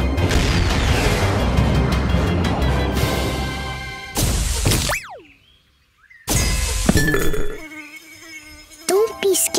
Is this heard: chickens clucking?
no